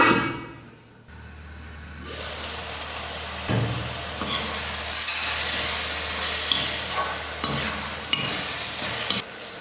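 Egg masala curry being stirred in a pan after hot water goes in, a spoon scraping and sloshing through the thin gravy in uneven strokes over a continuous low simmering sizzle, close and fairly quiet.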